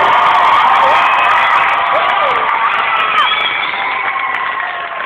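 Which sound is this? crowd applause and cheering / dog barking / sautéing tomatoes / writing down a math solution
crowd applause and cheering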